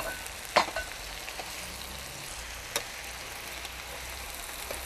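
Spinach being stirred into a dry curry in a pan, with a soft steady sizzle, a couple of sharp scrapes or clinks near the start and another around the middle, and no talking.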